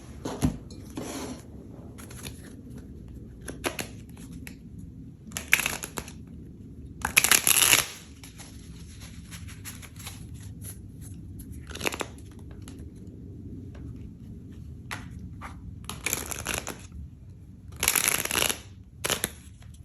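Tarot cards being shuffled in repeated bursts of riffling and crisp snapping over nearly twenty seconds, with quiet gaps between rounds and a faint background hum.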